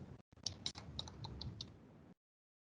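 Quick keystrokes on a computer keyboard while entering an access-control header in web code, a short run of light separate clicks over about two seconds, close and quiet, then silence.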